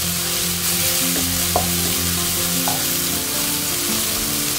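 Butter chicken simmers and sizzles in a pan as the ingredients are stirred together, giving a steady loud fry with a few scraping strokes of the utensil.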